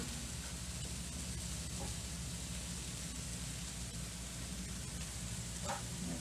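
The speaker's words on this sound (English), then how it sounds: "I'm just going to go ahead and saute my mushrooms" Mushrooms sautéing in a pan, a steady close hiss and sizzle running unbroken throughout, with faint clinks here and there.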